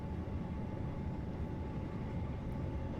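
A Class 350 electric train in Train Simulator Classic runs with a steady, dense low rumble and rolling noise that stays even throughout, with no voices.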